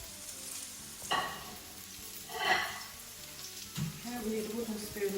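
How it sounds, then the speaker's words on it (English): Onions dropped into a hot pan give a soft sizzle with a few brief bursts of crackle. The sound stays fairly quiet, and a voice is heard faintly under it. "it's all nice and hot, so we add our onions"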